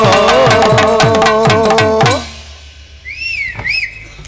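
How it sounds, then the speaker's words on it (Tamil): A sharp two-note whistle from an audience member at a stage comedy show, preceded by a loud rhythmic burst of music and percussion that cuts off, then the whistle rising and falling in quieter space. "விசில் அடிச்ச ஆளுக்கு மட்டும் நன்றி"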